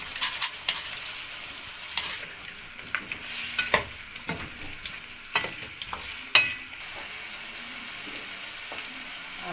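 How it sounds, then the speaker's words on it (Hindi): Desi ghee sizzles and crackles in a karahi pan over a stove, a close, continuous frying hiss broken by irregular pops and stirring scrapes. "देसी घी डालेंगे इसमें।"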